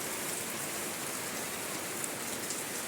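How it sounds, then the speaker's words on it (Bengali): Rain falls steadily in a village during hot weather, a dense even hiss of drops on surfaces that stays constant and fairly close throughout, with no voices. "আর এখন আল্লাহর দয়াতে শুরু হয়ে গেল বৃষ্টি"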